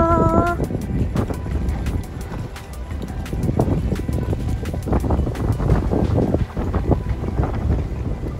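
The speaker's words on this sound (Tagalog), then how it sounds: "Lakas ng hangin." Strong wind on a beach buffets the microphone in a constant roar, with scattered sharp clicks and a brief tone at the start.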